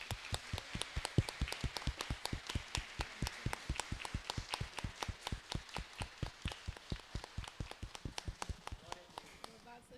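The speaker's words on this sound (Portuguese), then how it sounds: "vamos dar uma salva de palmas para o Senhor" Church congregation clapping in rhythm during a Baptist service, sharp regular claps at a brisk steady tempo continuing for about ten seconds, fairly close, with a faint murmur of voices underneath.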